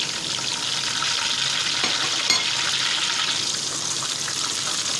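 Chopped garlic and 10 to 12 curry leaves frying in hot oil while a spoon stirs them: a steady, close hissing sizzle with a few soft scraping clinks partway through.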